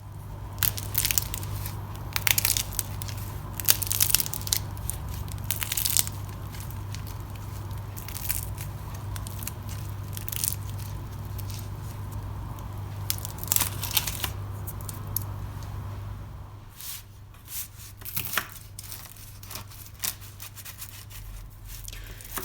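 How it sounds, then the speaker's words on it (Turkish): Crispy oven-baked homemade börek pastry crunching and crackling up close, a steady stream of sharp brittle crackles that thins out toward the end over a low background hum. "Şimdi çıtırtısını beraber dinleyelim."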